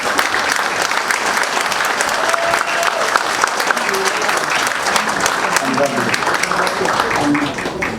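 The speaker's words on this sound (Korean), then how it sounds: "우리 뜨거운 환영의 박수 좀 부탁드립니다." A standing audience in a Korean lecture hall claps warmly and continuously in welcome of a former senior secretary for foreign affairs and security, dense steady applause filling the room with some crowd murmur.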